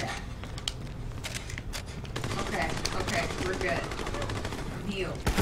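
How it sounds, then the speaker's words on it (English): Rapid gunfire crackles in the co-op shooter Army of Two: The Devil's Cartel, with dense bursts of shots that keep going throughout and grow louder partway through, mixed with some game noise. "you're getting shot"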